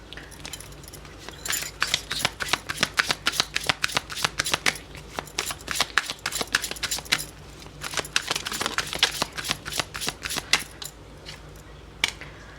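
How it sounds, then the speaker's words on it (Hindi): Tarot cards are shuffled and drawn close up, a run of crisp rapid riffling flicks and card slaps with brief pauses between bursts. "कुछ कार्ड्स मैं और भी ले रही हूँ।"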